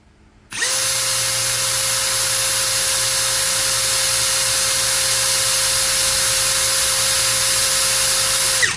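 A Tekiro XV 20V cordless brushless drill spins up and runs steadily at speed setting 2 in drilling mode, a constant high-pitched motor whine held close and loud for several seconds without load and without speech.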